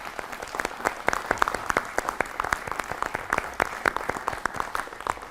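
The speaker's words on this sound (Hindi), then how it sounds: "आपके लिए जोरदार तालियां एक बार मेरी तरफ से" Crisp, rhythmic applause from an audience at a youth-focused talk on Swami Vivekananda, sharp distinct claps repeating steadily and close, with little else beneath them.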